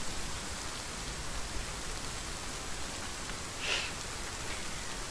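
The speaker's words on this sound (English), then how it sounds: "Aw, no rain, please. No rain." Rain in The Forest survival video game, a soft, even hiss of falling rain, faint and steady with a brief slightly louder rustle near the end, no voices.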